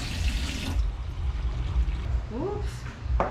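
Water poured into a Korean frying batter mix, a short splashing pour amid kitchen clatter, with a voice speaking briefly near the end.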